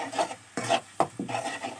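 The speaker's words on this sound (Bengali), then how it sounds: "এখন মশলা দিয়ে কিছুক্ষণ কষায় নিব।" Spices for taro greens with peas are stirred and sautéed in a pan, producing four close, scraping strokes in an uneven rhythm, each with a raspy rub and a soft sizzle, and no talking.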